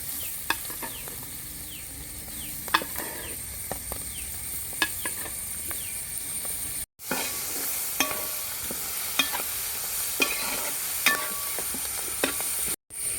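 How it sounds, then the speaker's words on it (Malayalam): Cooked clam meat fries in a pan of roasted spice masala, toddy-shop style, with continuous close sizzling and crackling plus frequent sharp spatula scrapes and taps across the pan. "ഇപ്പോൾ മൂത്ത് വന്ന പൊടിയിലേക്ക് നമുക്ക് വേവിച്ച് വെച്ച കക്ക ഇട്ട് കൊടുക്കാം."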